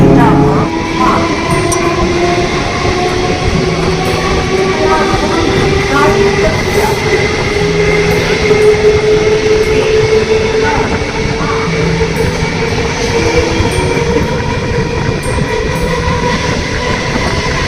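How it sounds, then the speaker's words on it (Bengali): A Barrackpore local electric train passing near Shyamnagar, a loud sustained rumble and rattle with rising motor whine and wheel clatter, close by, with some voices underneath. "ওটা মনে হয় ব্যারাকপুর লোকাল আছে।"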